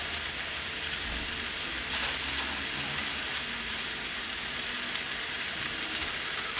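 Pieces of meat for a sandwich, topped with jamón and cheese, sizzle steadily in a hot frying pan, with a constant loud crackle and an occasional faint clink.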